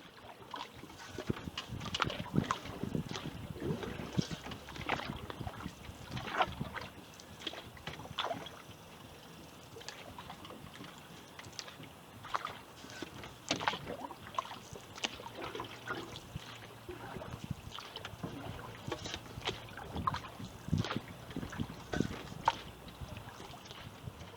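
Solo paddle in a Wenonah Voyageur solo canoe with a Zaveral paddle: soft, repeated strokes and watery swishes and trickles run through a long, quiet stretch, with faint wind and no talk.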